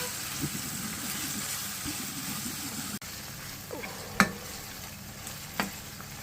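Salted ground meat with pepper and oregano stirred in a hot pan for spaghetti sauce, a steady soft sizzle under scraping spoon strokes, with a few sharper knocks of the utensil against the pan.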